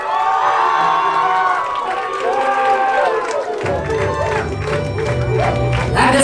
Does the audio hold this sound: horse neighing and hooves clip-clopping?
no